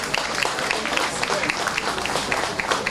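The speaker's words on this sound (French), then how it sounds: "Applaudissons pour sa mémoire." An audience at a foundation gala night applauds in memory of someone who died, a dense, even wash of clapping from many hands that stays steady for a few seconds.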